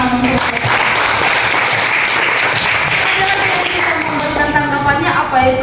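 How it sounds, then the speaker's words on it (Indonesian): A classroom of students applauds, a dense burst of clapping that carries on steadily under overlapping voices and chatter, fairly loud and close throughout. "Silakan tepuk tangan untuk"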